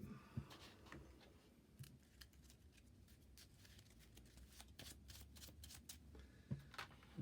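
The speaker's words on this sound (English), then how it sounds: "Shuffle the rest into the deck." Quiet riffling and snapping of playing cards being shuffled into a deck during a Marvel Champions card game, soft clicks and flutters running steadily throughout with no talking.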